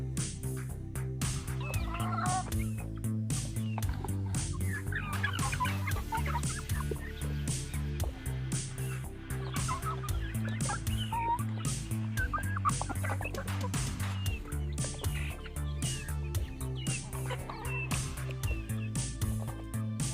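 Chickens clucking continuously, several birds close by with busy overlapping calls and occasional louder squawks over a steady background hum.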